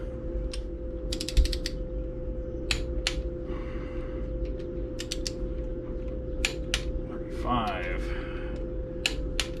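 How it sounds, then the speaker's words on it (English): A ratchet torques down bolts on a 500-cubic-inch Trick Flow PowerPort stroker engine, giving close bursts of rapid clicking pawls and tool clacks, with a steady hum and a brief spoken word behind them. "Now let's torque this down."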